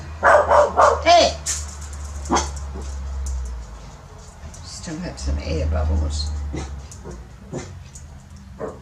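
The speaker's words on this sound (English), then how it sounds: "Stop barking!" A dog barks several times in quick succession near the start, loud and close, while a person talks and continues speaking afterward over a low steady hum from a torch workspace.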